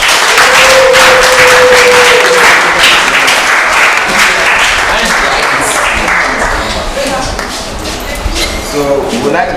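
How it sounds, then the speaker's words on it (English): Loud audience applause and clapping at a university award launch event, a dense burst of many hands that carries on strongly for nearly ten seconds, with a brief tone and some murmuring voices mixed in. "Shall we clap for them?"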